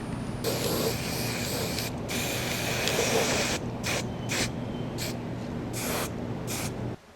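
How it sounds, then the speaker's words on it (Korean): Spray paint hisses from an aerosol can onto a boombox being customised, in long steady bursts broken by short pauses, then a run of quick separate spurts, close and fairly loud with no talking. "여러분 지금 이렇게 스프레이는 다 뿌려서 왔는데"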